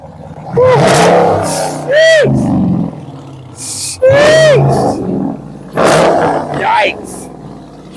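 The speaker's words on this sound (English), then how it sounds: "Let the people hear that motor, because now I know why you don't have audio." A 2017 Dodge Charger Daytona engine revving hard in Harlem, New York, several loud, close throttle blips that rise and fall in pitch, with people shouting and talking over and between the revs.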